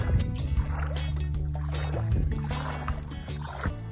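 A chain of kayaks is walked through water, with sloshing, gurgling water and bumping hulls close by, continuous and fairly loud throughout.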